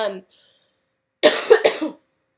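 A brief burst of two or three sharp coughs, close and loud, follows a moment of silence after a trailing bit of voice.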